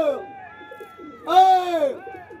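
A pigeon kept by a pigeon fancier gives a single swelling coo midway, close and fairly loud, set against softer low murmurs before and after.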